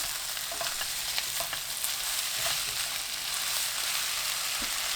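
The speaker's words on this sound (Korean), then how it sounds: "(1분) 후 다진 마늘 반큰술, 어묵, 양파 넣고 1분 볶아주세요." Eggplant stir-fried over high heat with minced garlic, fish cake and onion sizzles steadily and close up in a pan, with light scraping stirs breaking through the constant hiss.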